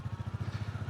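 Close, steady low thumping of a new Royal Enfield Bullet 350's rustic single-cylinder engine while riding during break-in, an even, rapid pulsing beat with no voices.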